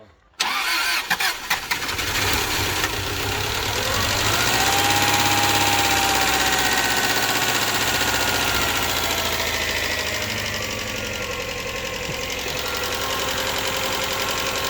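A Subaru Legacy that had overheated and boiled over its coolant cranks briefly, catches and settles into a loud, steady idle with a faint knock, continuing alone close to the microphone.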